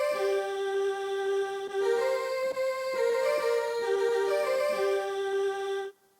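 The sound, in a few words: Fairlight synthesizer flute sound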